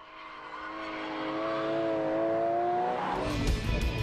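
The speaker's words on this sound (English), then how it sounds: "You can really do some wild drifting in this car." A Porsche 911 GT3 engine rises in pitch as it revs hard while drifting, then gives way to a rough, scraping tire squeal near the end.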